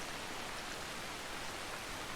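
Rainfall in the video game Assassin's Creed Shadows, a steady, dense and fairly loud hiss of rain that continues without pause or talk.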